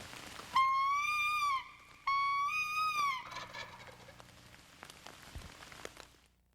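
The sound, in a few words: tom turkey gobbling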